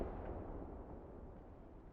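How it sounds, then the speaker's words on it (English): Mortar rounds landing in Call to Arms Gate, an early WWII Eastern Front battle, rolling as a continuous low rumble of distant impacts with no clear separate blasts. "I hear rounds landing. That's got to be the mortar."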